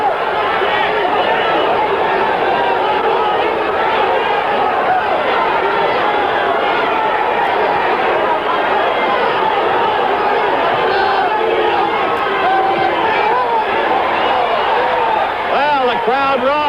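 A large crowd at the Muhammad Ali vs Alfredo Evangelista boxing fight, a loud continuous roar and babble of many voices that swells near the end.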